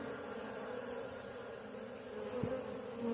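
Queen bee buzzing steadily during a bee removal, a continuous close insect drone that holds throughout, with a brief louder swell near the end.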